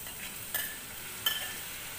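Shrimp frying in a pan for pancit canton, a steady sizzle with two brief stirring scrapes, close and alone.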